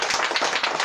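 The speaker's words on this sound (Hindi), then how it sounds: "ताली बजा के परमेश्वर को" A church congregation claps together in thanks to God, producing a dense, loud burst of many hands applauding at once, close and steady through the whole moment.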